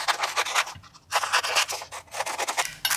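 Paper book page being cut along its borders with scissors, a run of close, crisp snipping and rasping strokes in bursts with a short pause between them, no talking.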